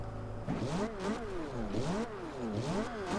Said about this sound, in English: let's see what the exhaust sounds like